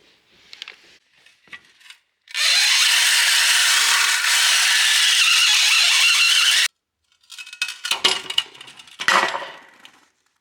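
A drill with a toothbrush head whines loudly and steadily for about four seconds, grinding rust off metal on a red Piaggio scooter, with scraping and clattering handling sounds before and after.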